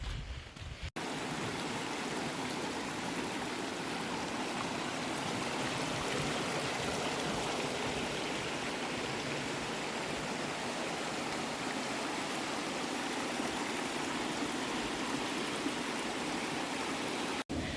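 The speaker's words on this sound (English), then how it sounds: "Not even a quarter of a mile into the trip and I've already come across my first waterfall." Rushing water of a waterfall on a hiking trail fills the whole stretch with a steady, dense roar, close and loud, continuous without breaks or voices.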